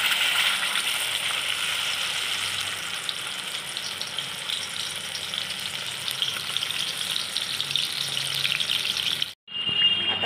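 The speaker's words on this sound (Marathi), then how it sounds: "आता ही प्युरी शिजतीये." Tomato puree sizzling in about two spoons of hot oil in a pan for kadhai paneer, a steady loud hiss that continues unbroken and cuts off at the very end.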